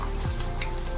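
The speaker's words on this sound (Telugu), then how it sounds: "తర్వాత వెల్లిపాయలు, ఎండుమిర్చి వేసుకొని ఈ విధంగా కలుపుకోవాలి." Garlic and dried red chillies fry briefly in a pan for tomato chutney, a short, close, steady sizzle with a faint stir.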